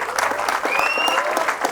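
An audience at a Gujarati film premiere claps continuously in a dense, steady burst of applause that fills the room, with a voice audible over it.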